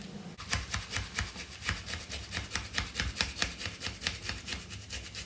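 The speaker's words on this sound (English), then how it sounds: "I've got a little mini grater here, rather than chop mine, I'm just going to use this and grate it." A little mini grater working through an ingredient for a creamy pork and mushroom stroganoff: quick, steady back-and-forth rasping strokes, close and fairly quiet, in an even rhythm without talk.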